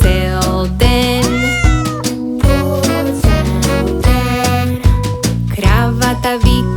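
A singing voice imitates a cat's meow in a children's song: repeated, loud, rhythmic meows over bouncy musical backing.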